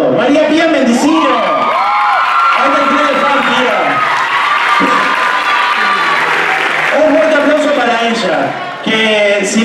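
Loud, dense applause and cheering from a dance-show audience for a choreographed performer, with whoops and shouts over continuous clapping, a voice rising and gliding above the crowd throughout and the cheering holding steady to the end.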